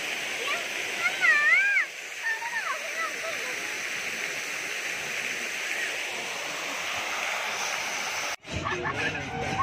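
Water from a fountain show at Nandankanan Zoological Park in Odisha splashes and rushes in a steady, loud wash, with voices and a brief break near the end.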